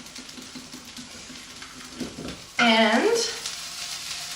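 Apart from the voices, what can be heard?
broccoli sizzling in a skillet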